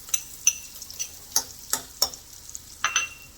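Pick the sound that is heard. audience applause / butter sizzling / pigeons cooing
butter sizzling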